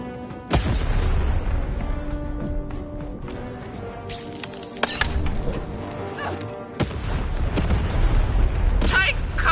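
A cannon fires in the video game Lost in Random, booming with crashing, shattering impacts and game sound effects in a loud, busy mix, with a sharp blast near the start and more hits later.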